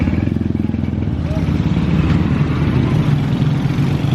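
Steady rumble of several motorcycle engines idling and revving nearby on a motorbike repair street in Angeles City, with street clatter and voices mixed in throughout.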